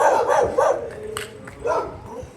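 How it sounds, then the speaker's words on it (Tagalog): A dog barks a few times in short, sharp bursts, fairly close, with some background noise between the barks. "Laki pa yan ng aso."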